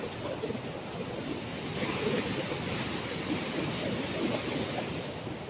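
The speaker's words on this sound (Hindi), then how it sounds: "पानी का बहाव कितना तेज़ है, मैं अभी आपको दिखाता हूँ।" Fast-flowing water of the Indus River surges at Taunsa Barrage, a steady broadband rush with wind buffeting, moderately distant and unbroken by speech.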